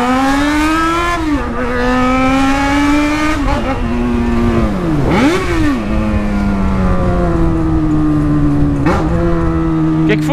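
A Yamaha XJ6 motorcycle carrying a passenger accelerates hard, its loud engine revving up steadily through the gears with brief dips at each shift, continuous and close throughout.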